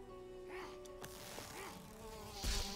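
Buzzing from a bee in the video game Valheim, a thin droning hum that wavers in pitch over a quiet game soundscape, with a few sharp clicks and a brief louder burst near the end.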